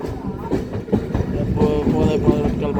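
A passenger train runs along the rails with a steady rumbling roar and a rhythmic clatter from the carriages, loud and close, with voices faintly mixed in.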